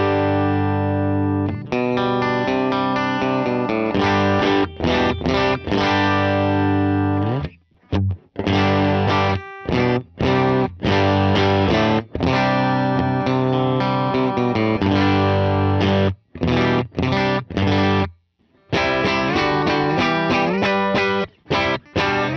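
Electric guitar with Fralin or Veritas Pioneer Polecat P90 pickups played through a clean tone, in loud sustained chords and melodic runs with a few brief pauses over about twenty seconds.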